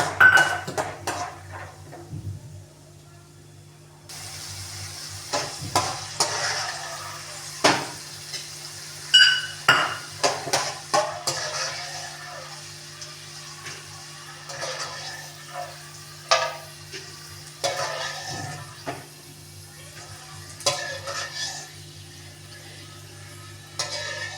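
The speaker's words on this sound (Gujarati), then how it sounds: "સૌ પ્રથમ આપણે તેલ ગરમ કરવા મૂકશું તેલ આવી જાય ધાણા તરી લેશું" Coriander frying in hot oil as a tempering for poha with potatoes, heard as a broad sizzle that swells after a few quiet seconds, mixed with repeated clatters and knocks of a spoon and pan nearby.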